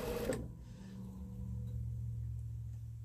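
A sewing machine stitching a quarter-inch seam on a fabric memory bear, a low steady mechanical whir that runs on after a brief louder knock at the start.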